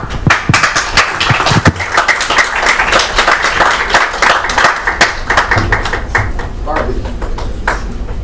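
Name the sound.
audience applause after a lecture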